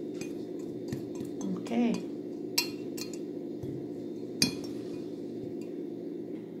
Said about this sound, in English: using the whisk